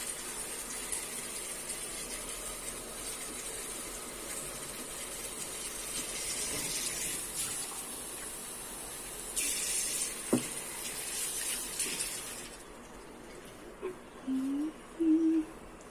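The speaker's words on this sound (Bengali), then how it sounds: "ওই ফাঙ্গিসাইড দেওয়া জলটাই আমি একটু দিয়ে দিচ্ছি, খানিকটা নর্মাল জল।" Fungicide-mixed water mixed with plain water is poured onto a freshly planted garden plant, giving a steady soft hissing trickle that swells briefly near the end before fading into quiet.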